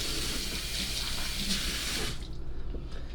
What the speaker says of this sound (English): let me just rinse my fingers.